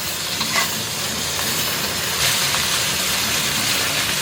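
Large tiger prawns sizzle in a covered pan over medium-low heat, a steady close frying hiss with occasional louder crackles and no talking.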